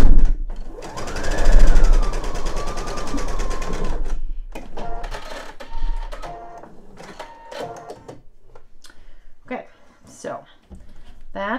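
A sewing machine runs a steady stitching burst along the seam of a beginner eye pillow, loud and close, then gives way to softer handling noises and someone talking.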